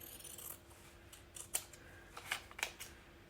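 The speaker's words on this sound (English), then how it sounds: "Right, so I'm gonna cut my pieces out." Fabric pieces for a cushion are cut with scissors: several quiet, close snips and crisp slicing strokes in a loose, uneven rhythm over a faint background hum, with no talking.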